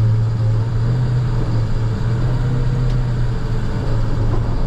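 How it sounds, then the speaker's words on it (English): A snowplow truck's engine drones loud and steady as it revs out with wheels spinning in snow, a continuous low rumble heard close with no talk. "You might be able to hear the truck revving out."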